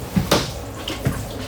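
Water spurts and splashes in short bursts as the last of it is flushed from a boat's raw water system during winterizing, with a few separate gushes and drips close by and no talk.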